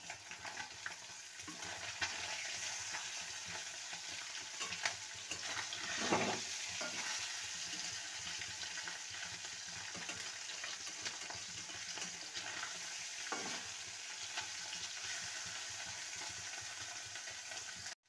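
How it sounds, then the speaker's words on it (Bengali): Mourola fish frying in a pan, a steady broadband sizzle throughout with occasional soft stirring or shifting sounds, close and continuous with no talk. "মাছগুলো ভাজা হয়ে গেছে"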